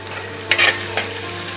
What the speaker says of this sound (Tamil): தேங்காயும் கொஞ்சம் நல்லா வதங்குச்சுன்னா நல்லா ஸ்மெல் இருக்கும்.